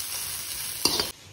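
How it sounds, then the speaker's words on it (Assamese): Fish frying in a kadai crackles with a soft steady sizzle, then a short burst of louder scraping stirring near the end before the sound drops away sharply. No voices. "মাছ ভজা হৈ গ'ল ৰেডি"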